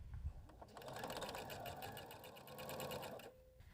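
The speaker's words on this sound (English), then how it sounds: "So let's go ahead and sew 1/4 inch down that side." A sewing machine runs a continuous quarter-inch seam joining fabric quilt pieces for a table topper. The motor hums steadily and close for about three seconds, then stops.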